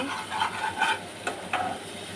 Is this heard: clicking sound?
no